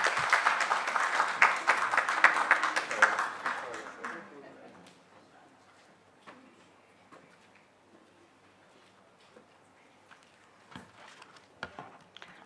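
Applause from an audience at a parliamentary steering committee inauguration, dense and loud at first, then thinning into scattered claps and fading to near quiet.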